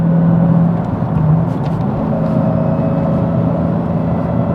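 Manual Dodge Challenger Hellcat pulling in fourth gear on a highway, a steady loud low engine drone with road and wind roar filling the whole stretch, no talk.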